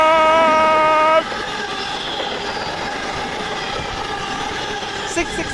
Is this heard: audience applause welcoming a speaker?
no